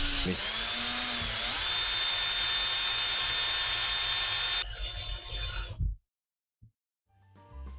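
A power drill whines steadily and loudly up close, its pitch shifting as it bores into a lump of wood, then it cuts off abruptly into silence.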